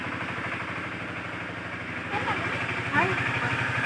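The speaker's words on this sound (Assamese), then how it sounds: "এই ট্ৰেক্টৰ চলি আছে" A tractor engine runs steadily with a low, throbbing, slightly rattly idle that holds unbroken throughout, while people talk over it.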